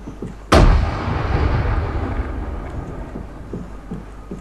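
A grenade explosion in the video game Arma 3 bursts suddenly, close and loud, with a deep rumbling boom that rolls and decays over several seconds, no voices.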